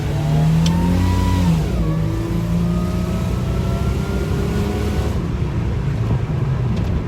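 Boosted car engine pulling hard at full throttle, loud and close, its note climbing and holding with strong sustained revving throughout, rising again near the end.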